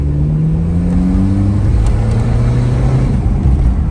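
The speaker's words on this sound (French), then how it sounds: "le son, ce que j'aime bien, c'est que ça fait pas diesel justement" A petrol car engine revs loudly and close, its droning pitch rising and falling as the first car is driven on a short outing, with no talking.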